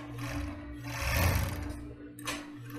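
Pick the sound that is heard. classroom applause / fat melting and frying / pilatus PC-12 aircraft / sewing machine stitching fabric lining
sewing machine stitching fabric lining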